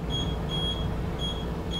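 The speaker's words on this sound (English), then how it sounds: "the beep beep showing that we are in the maintenance mode" A Miura industrial boiler's control panel beeps in maintenance mode, giving a faint, high electronic tone in repeated short pairs of beeps over a low steady background hum.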